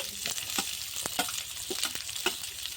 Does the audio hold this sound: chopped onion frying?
yes